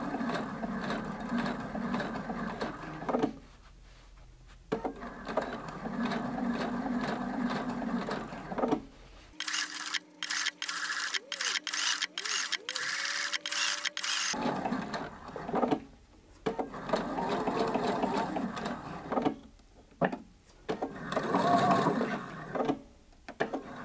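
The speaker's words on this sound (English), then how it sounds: "I'm going to go ahead now and sew that stitch in the ditch" A domestic sewing machine stitching in the ditch along a quilt seam, running in steady mechanical bursts with short pauses between runs, close and moderately quiet, with no talking.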